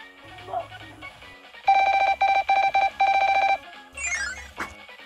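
Telephone keypad dialing tones in the Kirby and the Amazing Mirror video game: a run of four or five loud, evenly spaced beeps, with brief game sounds before and after.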